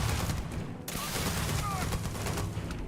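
A shotgun fires in the sci-fi video game Starfield. The blasts come as dense, rapid bursts in a loud, continuous firefight, with chatter and game noise mixed in.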